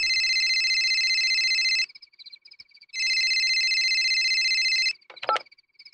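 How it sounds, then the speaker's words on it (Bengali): A telephone rings loudly and close in two long, steady electronic bursts with a short quiet pause between them. A brief clatter follows the second ring, with no talk. "হঠাৎ ফোন বেজে উঠল।"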